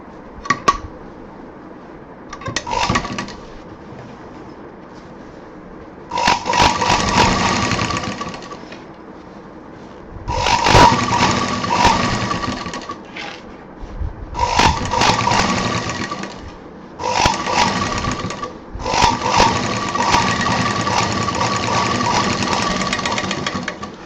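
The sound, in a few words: sewing machine stitching a handbag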